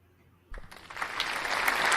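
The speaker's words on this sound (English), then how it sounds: "Have you ever had an applause like that, Chad?" An audience breaks into applause to welcome a kayak-fishing guest. After a quiet start, the clapping begins abruptly and swells into loud, sustained applause.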